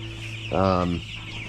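Pastured chickens cluck in a single loud, close burst of about half a second, set against a steady low outdoor hum.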